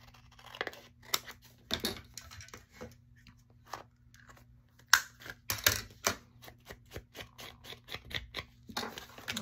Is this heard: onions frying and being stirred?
no